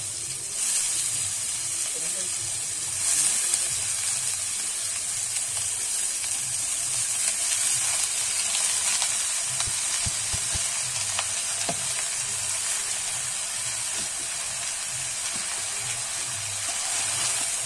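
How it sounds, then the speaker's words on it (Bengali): Cut bottle gourd sizzles and hisses steadily in hot oil, a constant bright crackle close by, with occasional faint stirring sounds and no talking. "এবারে কিন্তু ধুয়ে কেটে রাখা লাউটা আমি দিয়ে দেব"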